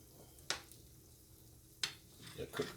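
Honey garlic chicken cooks in a pan with a soft, steady sizzle. Two sharp utensil scrapes or clinks break in along the way, and there is faint movement near the end.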